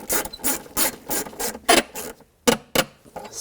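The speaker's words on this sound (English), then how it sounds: "And we'll tighten the screw down." Repeated rhythmic ratcheting and rasping strokes from tightening the battery hold-down screw on a 2000-2006 BMW X5, close and fairly loud, about a dozen short bursts with brief pauses and no talking.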